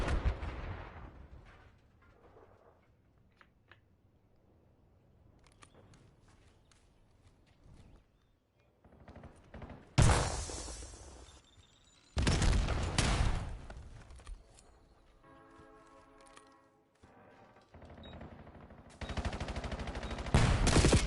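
Gunfire in a Call of Duty Black Ops 7 esports match: scattered single shots and faint footsteps, then loud bursts of rapid automatic fire with sharp cracks, close and dense toward the end.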